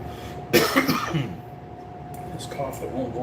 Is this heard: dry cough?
yes